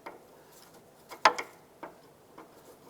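An outer tie rod end is threaded onto the inner tie rod of a 2001-2005 Honda Civic, giving sparse, close metallic clicks and ticks with one sharper click in the middle, in a quiet setting.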